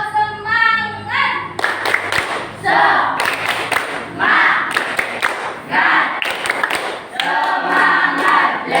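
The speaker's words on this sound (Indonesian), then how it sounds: "Tepuknya yang semangat ya, yang keras. Tepuk semangat." A classroom of children doing the tepuk semangat, bursts of loud, patterned group clapping and thumps mixed with children's shouted chant, in quick rhythmic runs with short pauses between them.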